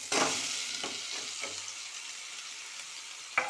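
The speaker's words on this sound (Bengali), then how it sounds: "দেখো মাটনটা খুব সুন্দরভাবে কষানো হচ্ছে" Mutton pieces sizzling in a hot pan with fennel seeds and ground fennel, a steady broadband fry hiss with a few sharper stirring scrapes near the start and one at the end; no voices.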